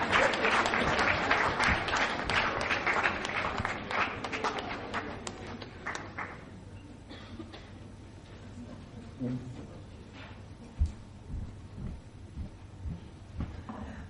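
Applause from an awards-ceremony audience starts dense and loud, then thins to scattered individual claps. It fades into a quieter room with occasional taps and faint voices.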